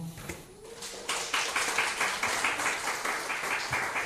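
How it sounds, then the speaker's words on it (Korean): An audience at an award ceremony during a disability independent-living workshop breaks into applause after a short quiet stretch, keeping up a steady, moderately loud clapping until the end. "다시 한번 큰 박수 부탁드리겠습니다"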